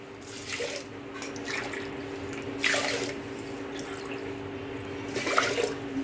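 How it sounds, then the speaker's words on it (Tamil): Water poured from a tumbler onto raw rice in a pressure cooker for sweet pongal, several short splashing pours over a faint steady hum in a home kitchen. "இந்த டம்ளரை நீங்கள் 3 டம்ளர் தண்ணியை ஆட் பண்ணிக்கலாம்"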